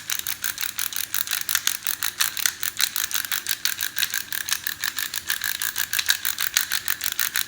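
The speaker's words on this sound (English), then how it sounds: "I use my pepper grinder, always fresh pepper" A hand pepper grinder cracks fresh pepper for homemade beef jerky, a fast, even ratcheting click repeated steadily and close up.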